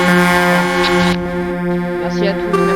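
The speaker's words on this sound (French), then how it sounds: "Ils ont fini de klaxonner?" Several vehicle horns blare together in a convoy, sustained harmonic honks overlapping one another at close range, with a pause midway before a renewed blast and people talking underneath.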